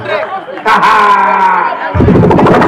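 Crowd at a Gabonese cinema night event cheering, whooping and chattering for someone, a loud swell of voices that follows a speaker and grows denser toward the end.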